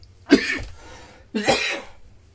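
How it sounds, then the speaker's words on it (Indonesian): Two close, distinct coughs about a second apart, the second slightly rougher, heard alone without talk. "Maaf, sedikit batuk."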